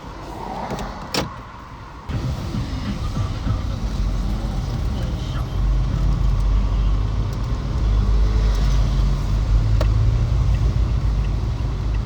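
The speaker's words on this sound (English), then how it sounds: "so as you can see, I'm in the middle of traffic." Road traffic on the Nairobi Expressway heard from inside a car: a constant low engine rumble and passing vehicles including big buses, with a window motor whirring early on and a voice speaking over it.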